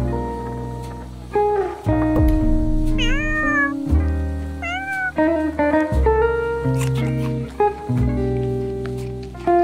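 Several cats meow in turn, with rising, wavering cries repeated throughout, close by, over a steady tonal music bed and no talking.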